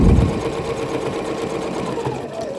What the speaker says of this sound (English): So I'm just going to stitch through the middle there.